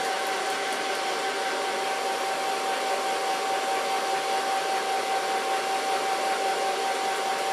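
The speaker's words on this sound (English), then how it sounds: "And now I'm going to blow dry it with my fingers." A hair dryer blows in a loud, unbroken roar with a steady tonal hum while short hair is blow-dried with fingers, alone and without talk.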